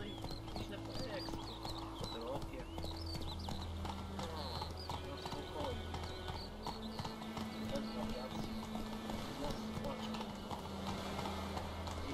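Horse hooves clip-clop steadily at a riding pace along a road in The Witcher 3, loud and continuous under game music and ambience, with someone talking over it.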